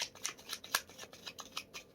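Tarot cards are shuffled by hand in quick crisp riffles, a rapid run of light papery flicks close to the listener and fairly soft, with no voices.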